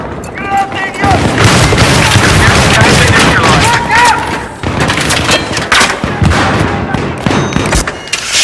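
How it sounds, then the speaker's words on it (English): A thrown grenade's heavy blast and bursts of gunfire fill a Battlefield 3 Domination match on the Scrapmetal map, with loud, dense booms and rapid shots continuing after a quieter opening. "Grenade out!"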